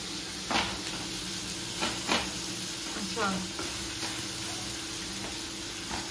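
Food frying in a pan in a home kitchen as dinner is cooked, giving a steady, fairly soft sizzle with a few brief clinks and stirring scrapes.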